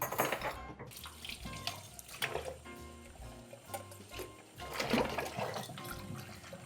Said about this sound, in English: rinse the shakers.